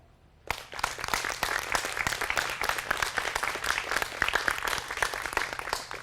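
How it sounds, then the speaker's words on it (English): Town hall audience breaking into sustained applause, many hands clapping in a dense, even patter that starts abruptly and continues at steady loudness. "Those who believe yes, please applaud."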